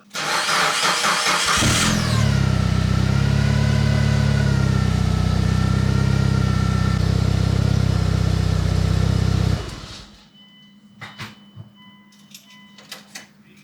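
A Nissan S15 Silvia engine cranks briefly, catches and settles into a loud, steady idle close by for several seconds before being shut off, leaving quiet garage sounds behind.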